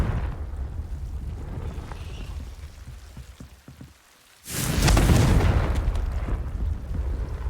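Confringo fire spell blast from Hogwarts Legacy: a steady rumbling bed gives way to a brief hush, then a sudden loud burst of crackling roar that lingers as dense noise, with no talking.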